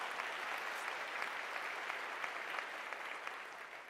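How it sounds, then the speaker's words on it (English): Graduation ceremony audience in a hall giving a round of applause to graduates, continuous even clapping heard faint and somewhat distant. "I think you deserve a round of applause for yourself."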